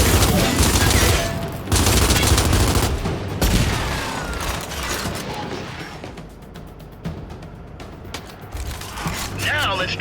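Gunfire in the video game Gears 5, bursts of shots and rattling weapon fire in a bootcamp training sequence, loud and dense with crashing impacts, under game voice dialogue.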